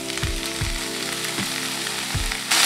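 Onion, green chili and curry leaves sauté in a hot pan for a Tamil home-style dish, a continuous loud sizzle and crackle with a few soft stirring scrapes, no voices.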